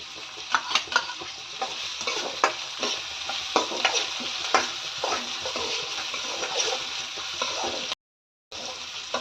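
Onion and green chilli frying for ragi upma, a continuous sizzle broken by frequent scraping stirs in the pan, close and moderately loud, with a brief silent gap near the end.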